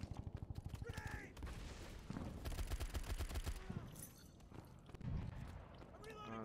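Rapid bursts of gunfire in a World War 2 shooter video game, sharp repeated shots with pauses between volleys, heard under ongoing talk.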